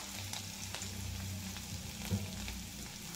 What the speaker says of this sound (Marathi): लसूण चांगला भाजून घेऊ।